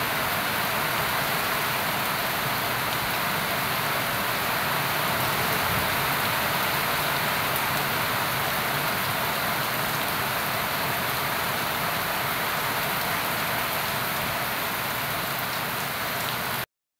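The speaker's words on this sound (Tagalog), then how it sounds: "Sobrang lakas ng ulan." Heavy rain pours down in a steady, dense hiss, loud and unbroken throughout with no voices.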